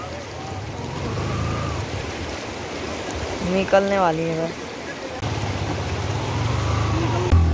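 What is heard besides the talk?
car driving across a deep river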